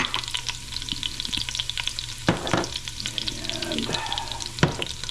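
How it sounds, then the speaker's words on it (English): Garlic sautés in a hot pan with a lively close sizzle and crackle, while a spoon stirs and scrapes with occasional knocks. A brief spoken word comes near the start. "let that garlic sort of saute"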